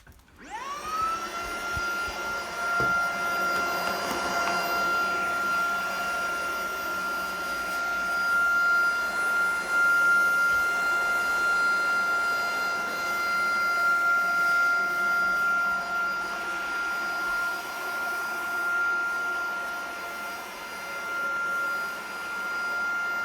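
Tineco cordless vacuum cleaner fitted with its upholstery and dusting tool, a steady loud whine with a strong constant tonal hum that spins up at the start and holds for the whole stretch, with no talking.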